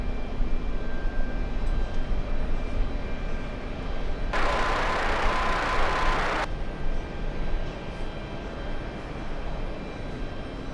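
Delta airliner on flight 679 to San Francisco roaring steadily as a jet at JFK, a broad sustained rumble with a loud burst of broadband hiss in the middle.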